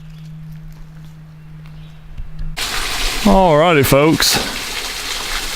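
A waterfall just off a hiking trail in Shawnee National Forest: steady broadband rushing water rises suddenly partway through and continues under a voice.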